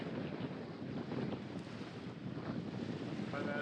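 Strong wind buffets the microphone outdoors on the Arctic tundra of Vestvidda near Kautokeino, a continuous loud broadband roar with no speech.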